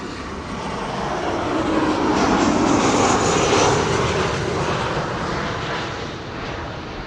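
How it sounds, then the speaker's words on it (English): A KLM airliner arriving at Amsterdam Schiphol Airport, its engines giving a steady broad roar that swells to a peak midway and then eases slightly as it passes, loud and continuous throughout. "KLM flight 1402 arriving from Paris."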